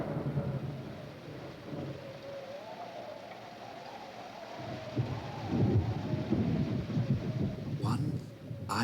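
Thunder rumbles low and steady through heavy rain, a continuous stormy wash that swells louder in the second half with a brief sharper crackle near the end.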